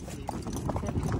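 Horse hooves clip-clop at a steady walking rhythm during a ride, close and clear, with people talking over them.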